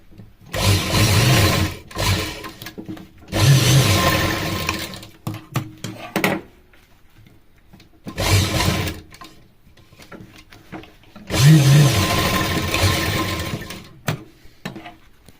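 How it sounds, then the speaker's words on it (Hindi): A sewing machine stitches fabric for a small choli-style doll dress for a Laddu Gopal idol, running in four loud bursts of rapid whirring with quiet pauses between them. "कट लगाने के बाद एक बार और सिलाई लगा करके इसे पक्का कर लेंगे।"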